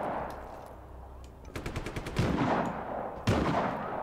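Automatic gunfire from a Just Cause 3 firefight, heard in rapid bursts of machine-gun shots over a low rumble, with a loud volley near the middle and another sharp burst near the end.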